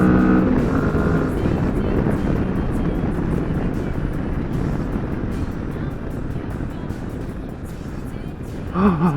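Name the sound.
Kawasaki Vulcan S motorcycle riding up a steep hill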